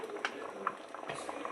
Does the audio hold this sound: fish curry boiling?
yes